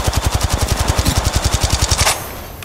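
Rapid automatic gunfire from a weapon in the Apex Legends Mobile video game: about twenty loud, evenly spaced shots in a steady stream that stop abruptly, followed by a brief fading tail.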